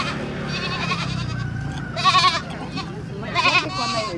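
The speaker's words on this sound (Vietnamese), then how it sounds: "Chợ dê hôm nay khá là đông vui tấp nập các bạn." Goats bleating at a busy goat market, several wavering cries rising over a steady crowd murmur and livestock noise, fairly loud and close, with people talking in the background.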